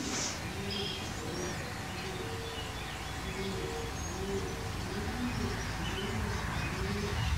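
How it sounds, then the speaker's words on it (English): Pigeons or doves cooing inside old asylum barns, soft repeated low coos recurring steadily through the clip over a constant hiss of background noise, with a few faint higher chirps. "I started hearing the doves, or the pigeons, cooing"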